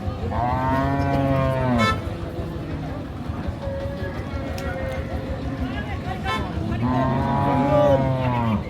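A medium-sized Friesian cow with calf at a village cattle market in Bangladesh lets out long, loud, drawn-out moos at the start and again near the end, with crowd noise and voices talking in the background.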